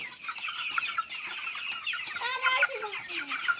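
Several chickens cluck and squawk close by in a busy, overlapping chorus, with sharper calls rising near the middle.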